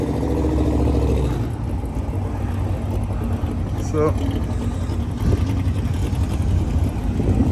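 A Pontiac GTO race car engine idles with a low, rough rumble and a few brief revs. It stays close by, partly under people talking.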